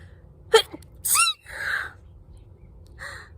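A few sharp sneezes close by, each a short explosive burst with a breathy tail, separated by brief pauses.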